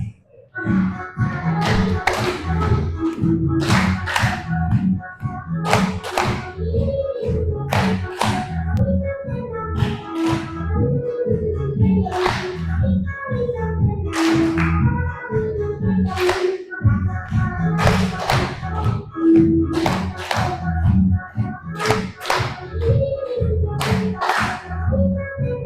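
Group of school pupils clap their hands together during an energetic exercise session, a loud, sustained stream of rhythmic claps with steady beats and occasional louder accents throughout.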